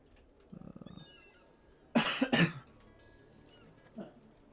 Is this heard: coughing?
yes